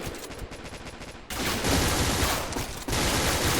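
Rapid automatic gunfire in the shooter game Point Blank, dense sustained bursts up close that grow louder and fuller partway through, with continuous overlapping shots.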